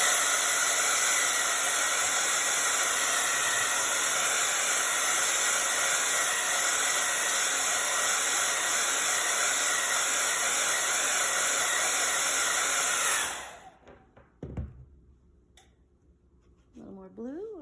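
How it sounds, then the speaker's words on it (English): A hair dryer blows loud and steady while drying paint on a winter-themed painting, a constant hissing roar that stops abruptly near the end and gives way to quiet handling sounds. "I'm gonna blow dry."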